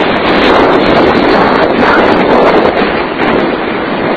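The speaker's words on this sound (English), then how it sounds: "it's really windy out here" Strong wind from Tropical Storm Lee on the Gulf Coast roars and buffets the microphone in a loud, continuous rush with no pauses, over a windy waterfront with big waves.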